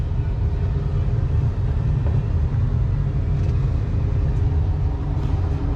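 A John Deere 624K wheel loader's diesel engine starts and runs, a steady loud low rumble with no break, heard up close from the cab with no voices.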